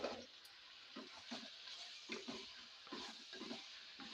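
Chicken nearly fried through in oil, with two large chopped tomatoes just added, stirred in a pan: soft sizzling under repeated scraping, stirring strokes at a steady, unhurried rhythm, close and fairly quiet.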